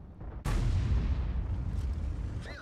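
Bat.-Châtillon 155 58 self-propelled artillery gun fires a single heavy boom in World of Tanks, a sharp blast followed by a long rumbling tail, with no talk.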